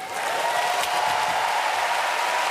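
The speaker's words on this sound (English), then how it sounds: "Huge roar from the coach, let alone the crowd, and it's 3 white lights." A crowd at a Paralympic powerlifting event at Paris 2024 breaks into loud, sustained applause and cheering after a lift, a dense roar that rises quickly and holds steady.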